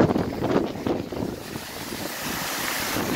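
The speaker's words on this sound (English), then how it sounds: "there's a shit ton of water, and it's starting to wash over the edges." Storm-surge water sloshing and washing over the harbour edges at Fairfield Harbour, churning steadily under strong gusting wind that buffets the microphone, louder at first and then settling into a continuous rushing roar.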